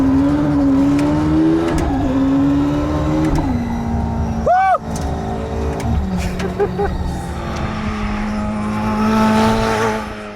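A Czinger 21C hypercar's high-revving engine roars loudly and steadily as it accelerates hard on a race track, with gear shifts and a brief shout partway through.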